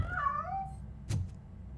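A cat in Robocop: Rogue City lets out a drawn-out, rising and falling meow, followed by a short faint thump, heard alone over low background hum.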